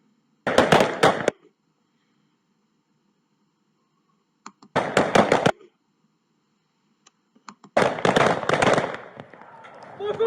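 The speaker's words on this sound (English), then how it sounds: "Four shots fired." Gunshots ring out during a police shooting in Las Vegas, heard as three separate bursts of sharp, rapid cracks spaced several seconds apart, loud and close, with a faint voice between them.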